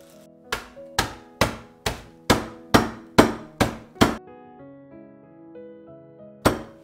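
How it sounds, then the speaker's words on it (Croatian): Hammer blows crushing biscuits inside a plastic bag, nine sharp, evenly spaced thuds in quick succession, then a pause and one more strike, close and loud against a faint background tone. "Malo ćemo samo da ga prepolovimo i dalje ćemo da ga usitnimo uz pomoć čekića."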